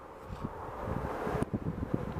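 Strong gusts buffet the microphone during a snowy white pine tree climb, a rough close roar with thumping bursts of wind noise and faint rustling.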